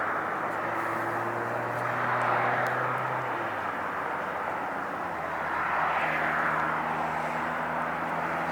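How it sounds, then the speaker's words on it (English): A Boeing 767 jet taxis at LAX, producing a steady loud roar and broadband engine rush with low tonal whines that shift in pitch and swell and fade slightly over the span. "And now on taxiway is the 767."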